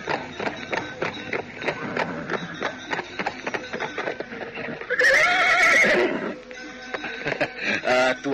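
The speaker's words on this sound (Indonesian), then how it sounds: "Lihatlah, bukankah 2 ekor kuda yang cukup bagus?" Two horses neigh loudly in a radio drama sound effect, a long shrill whinny standing out near the end after a stretch of busy clip-clopping and rustling with overlapping calls.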